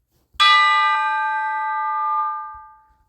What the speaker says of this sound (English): Tubular bells right here